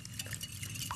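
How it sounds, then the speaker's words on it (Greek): Eggs being whisked in a bowl for a savory cake, quick light clinking taps of the whisk against the bowl, close and fairly quiet. "Ανακατεύουμε καλά τα αυγά"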